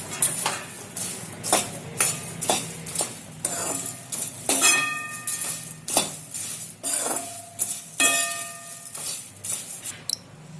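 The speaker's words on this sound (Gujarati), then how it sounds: "આપણે જે ધાણી અને મમરા શેકીને રાખ્યા છે ને એમાં નાખી દેશું અને બરાબર મિક્સ કરી નાખશું" Roasted puffed sorghum and puffed rice being stirred with turmeric and a spice mix in a metal pan: repeated scraping strokes and clinks of a spoon against the pan, in irregular bursts, close and fairly loud, with no talk.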